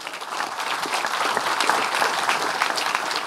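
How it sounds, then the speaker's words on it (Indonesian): A live audience at the Kenduri Cinta gathering in Jakarta applauds comedian Bintang Emon, with steady, dense clapping from many hands that stays loud and even throughout. "Jadi sekali lagi kita aplaus untuk Mas Bintang Emon."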